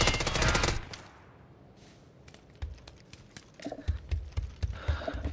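Gunfire in PUBG: a loud opening burst, then a quieter stretch before a run of sharp, rapid shots cracks out in quick succession, close and punchy.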